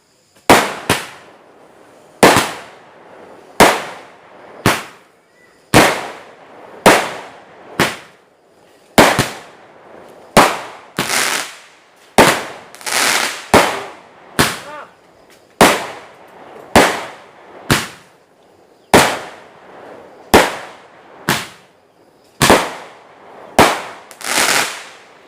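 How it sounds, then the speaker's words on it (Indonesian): Roman candle fireworks fire at night in a long series of sharp, loud bangs, about twenty shots spaced roughly a second apart, each with a brief crackling tail. "itu dia mercon Roman candle ya"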